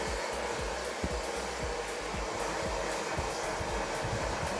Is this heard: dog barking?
no